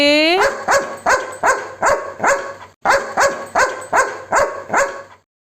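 A dog barks about ten times in a steady, evenly spaced series with a brief pause in the middle, close and loud; a whining tone opens it.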